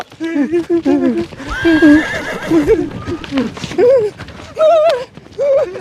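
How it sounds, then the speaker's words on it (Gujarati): A horse neighs in several loud, shaky whinnies in quick succession, close by, with brief hoof clatter between them. "આ ઘોડો આમ કેમ કરે છે?"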